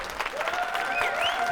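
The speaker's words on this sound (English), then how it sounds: "Can we get a round of applause for Alice and Aiden?" A small audience gives a brief, steady round of applause, close and clear, with a whistle rising over the clapping and no talking.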